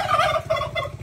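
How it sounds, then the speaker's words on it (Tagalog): Fowl calling while being fed, a close, loud run of warbling gobble-like calls in quick pulses over a low steady hum. "Pakain natin ng mga ibon na yan."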